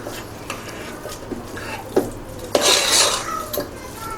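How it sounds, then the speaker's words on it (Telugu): Cooked moong dal mashed with a ladle in a pot for pesarapappu payasam: close metallic clinks and scrapes at irregular intervals over a low steady background, with a louder wet scrape toward the end. "ఇప్పుడు దీన్ని ఒక గరిటతోటి మ్యాష్ చేసుకోవాలి"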